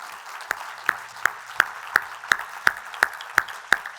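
Rhythmic congregational clapping in a church service, about ten sharp, evenly spaced claps roughly every third of a second, with a faint steady hum beneath and no talking.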